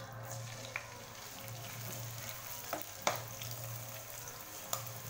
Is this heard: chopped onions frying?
yes